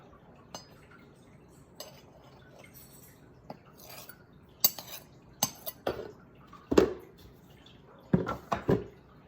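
A knife scraping and tapping across the rim of a measuring cup of flour to level it, a run of sharp clinks and scrapes getting busier toward the end, close by in a quiet kitchen.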